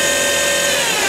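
An Okuma Genos L200E turning center runs its spindle at close to 8,000 RPM, giving a steady, loud machine whine with a sustained high tone and broadband hum, constant throughout with no talking.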